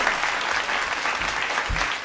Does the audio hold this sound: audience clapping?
yes